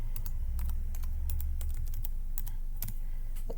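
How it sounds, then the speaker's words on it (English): Someone typing a word into a Microsoft Excel formula on a computer keyboard, a string of crisp, close key clicks in uneven bursts over a constant low hum. "So I'm going to type in there excellent."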